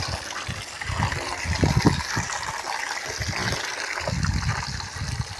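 Tap water gushing steadily from a faucet that will not stay open on its own and has to be held, a continuous close splashing rush with low thumps and bursts throughout.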